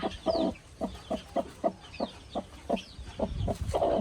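A brooding hen sits on her clutch of eggs, giving a run of short, soft clucks in a steady rhythm, close by with faint background noise.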